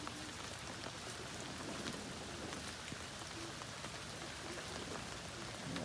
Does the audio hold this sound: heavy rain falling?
yes